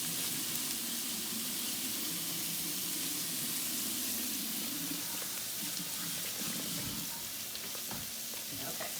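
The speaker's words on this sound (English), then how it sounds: "so we're washing our hands." Hands being washed under a running kitchen tap: a steady, continuous rush of water hissing into the sink, close and even throughout with no break.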